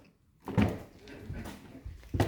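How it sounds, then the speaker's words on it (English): Rear passenger door of a Toyota GR Corolla opening, giving a dull thunk followed by a brief rustle and a second soft knock near the end, close and fairly quiet. "this is the rear door that my son goes in and out of"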